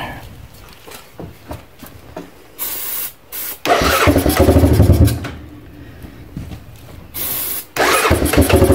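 A Honda Fourtrax ATV engine cranks in short, uneven bursts, then catches and fires into loud, rough running that surges and dips. It sputters briefly before roaring up again, close and alone.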